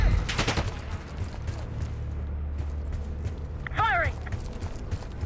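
Gunfire in the video game Call of Duty: Black Ops 6: a short, loud burst of rapid shots at the start. A low rumble follows, with a brief voice later.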